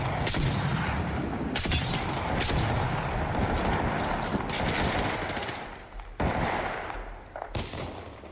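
Gunfire in the video game Apex Legends: dense, continuous bursts of shots and booming impacts fill nearly the whole stretch, loud and close, with brief dips before the firing resumes.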